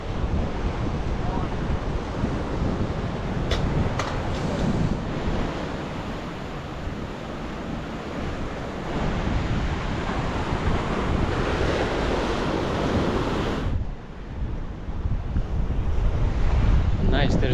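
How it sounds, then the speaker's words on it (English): Ocean surf rolls and breaks at Newcastle Beach in Australia, a loud continuous wash of waves mixed with heavy wind buffeting the microphone. "So this beach is called actually Newcastle Beach."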